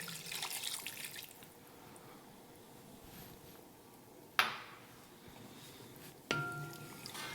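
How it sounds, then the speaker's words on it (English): Water is poured into a pot of Lahori homestyle chicken curry as a steady splashing, running stream, with two sharp metallic clinks from the pot partway through. "I'm going to add 1 cup of water in it"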